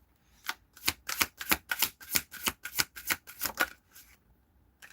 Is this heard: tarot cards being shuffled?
yes